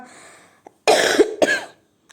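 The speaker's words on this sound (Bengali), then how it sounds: "সরি কাশি হয়েছে" Two sharp, close coughs burst out one after the other, following a faint murmur of voice and a brief pause.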